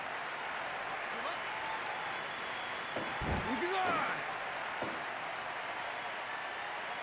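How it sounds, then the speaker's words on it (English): A wrestling arena crowd at a heavyweight professional wrestling match cheers and roars steadily in a dense, continuous wash of noise, swelling briefly around the middle with scattered shouts. "The crowd in a frenzy for this heavyweight matchup."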